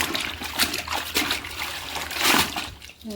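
A white shirt is dipped and worked by hand in water while being washed, giving a series of close sloshing splashes and dribbles that swell and fade, with no talk.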